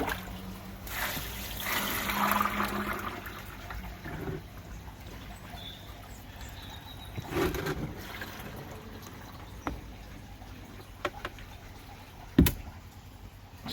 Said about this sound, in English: Get rid of this water.